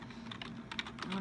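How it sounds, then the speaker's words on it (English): Username being typed on a computer keyboard, a quick run of light, close key clicks with a steady low hum underneath and no voices. "Now I'm going to type in my username"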